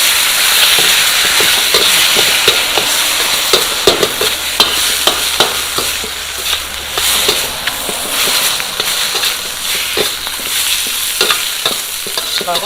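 Pieces of catfish are stir-fried in a hot pan for a spicy Thai stir-fry with tree basil leaves. A loud, steady sizzle runs throughout, broken by frequent sharp scrapes and taps from the stirring utensil.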